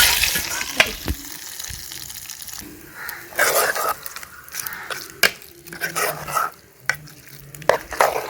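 Urad dal and curry leaves drop into hot oil for a village curry tempering, crackling and sizzling with sharp pops and clatters of stirring, close and moderately loud, with brief bursts of spluttering throughout.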